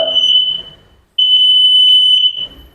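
A smoke alarm beeps loudly inside a prayer hall, a sustained high piercing tone that cuts out briefly then resumes, with faint room noise around it.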